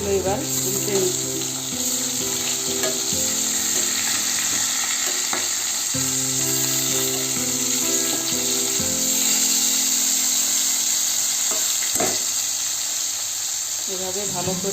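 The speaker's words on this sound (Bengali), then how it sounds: "এভাবে ভালো করে উল্টে পাল্টে মাছগুলো লাল করে ভেজে নিই।" Pieces of rui fish frying in hot oil in a pan, a loud continuous sizzle with scraping as the pieces are turned, while a person talks over it.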